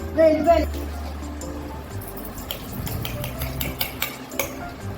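Spoon clinks and scrapes against a bowl as cumin and fenugreek powder are stirred into mango pickle, a few bright metallic taps over soft scraping, with a voice talking at the start.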